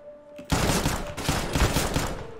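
Rapid automatic gunfire from Counter-Strike weapons being sprayed, loud and close, a dense burst of shots starting suddenly and running continuously without talk.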